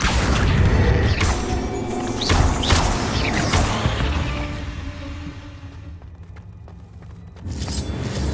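In Hogwarts Legacy, a Confringo blasting spell goes off in a cave with loud booms and crashing impacts. Rumbling debris and mechanical clatter follow, then fade to a quieter tail before another burst near the end.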